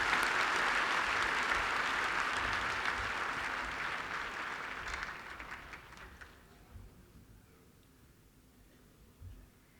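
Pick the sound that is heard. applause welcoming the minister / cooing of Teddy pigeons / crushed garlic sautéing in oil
applause welcoming the minister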